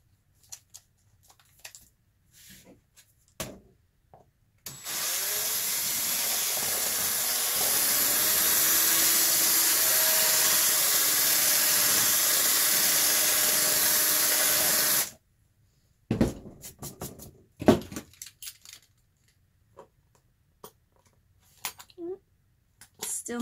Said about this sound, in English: So we're just walking up the drill bits.